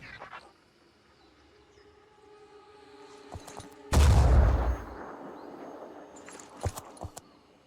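Gunfire in the video game Phoenix Point: a single loud, close shot or blast with a deep low thump that fades into a rumbling tail, followed by a few faint sharp clicks against a quiet background.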